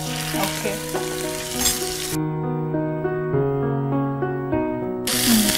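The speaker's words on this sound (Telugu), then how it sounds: "మరి కొంచెం ఫ్రై అవ్వాలనుకుంటాను ఉల్లిపాయ ముక్కలు అలాగే పచ్చిమిర్చి." Onion pieces and green chillies sizzle steadily in a hot pan, a close, continuous frying hiss that drops out briefly while a sustained musical tone carries on.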